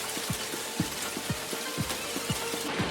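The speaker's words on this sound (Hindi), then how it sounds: "और देखते ही देखते तेज बारिश के साथ आसमान से ओले भी गिरने लगे।" Heavy rain with hail pours down on the Vaishno Devi pilgrimage route, a steady dense hiss overlaid with scattered heavy drops or hailstones thudding close by at an uneven pace, with no voices.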